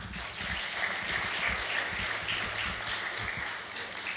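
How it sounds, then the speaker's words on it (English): Audience applause for Miss Williams at a Peace Bus gathering: steady, fairly close clapping from a small crowd, continuous throughout with no talking over it. "Can we give a round of applause for Miss Williams here?"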